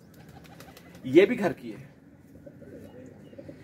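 A golden jiri pigeon coos once, a short low throaty call close by, surrounded by someone talking.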